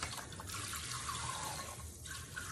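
Steady, close water from a sink tap runs throughout while a Yorkie is bathed in the sink, a continuous even splashing flow with no talking.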